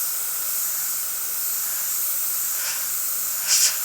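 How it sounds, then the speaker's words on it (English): An airbrush lays down a very light coat of paint on a three-dimensional cylinder, giving a steady, soft airy hiss throughout, with a brief louder burst near the end. "So I'm going to begin by spraying a very light layer"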